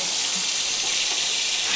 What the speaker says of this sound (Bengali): তো এই পটল ভাজাটা আগে করে নিই